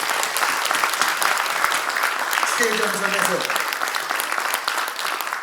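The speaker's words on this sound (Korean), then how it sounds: "결단을 내려주신 두 분께 우리는 뜨거운 박수를 한번 쳐드려야 됩니다" Warm, steady applause from the floor of a Democratic Party central committee meeting carries on for about five seconds, with a voice speaking over it partway through.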